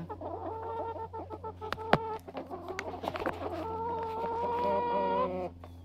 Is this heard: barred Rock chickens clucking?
yes